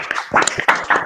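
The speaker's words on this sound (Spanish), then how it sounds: "quiero que abran sus micrófonos para que se escuche un aplauso" Several people clap over opened microphones at the close of an online workshop, giving a few sparse, uneven bursts of close, slightly distorted clapping.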